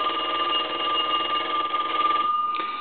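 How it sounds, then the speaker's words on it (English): An old A&E three-slot payphone's bell rings in a loud, continuous metallic trill close by, then cuts off abruptly near the end with a brief clatter. "I'm going to go ahead and ring the telephone."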